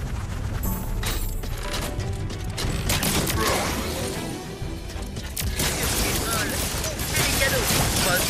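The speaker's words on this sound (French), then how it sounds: "Avec toutes ces explosions, il devient difficile d'étudier." Video game explosions and crashing effects in Skylanders Imaginators, loud bursts and rumbling booms layered over busy game sound, several blasts hitting in quick succession.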